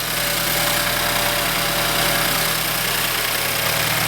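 A BMW N20 car engine running just after starting, after valve cover work, with a steady close idle hum and faint knocking vibration, loud and continuous without talk.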